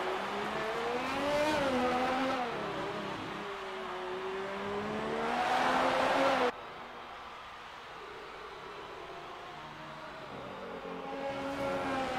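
An Alfa Romeo Formula 1 car on hard tyres in a racing game at the Mexico Grand Prix, its engine whining high and shifting pitch as it accelerates, with a sharp cut midway and lower droning afterward.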